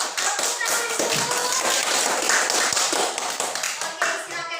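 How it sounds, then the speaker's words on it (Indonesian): A classroom of students breaks into dense, sustained applause, many hands clapping together loudly and continuously with a few voices mixed in. "Tepuk tangan dulu."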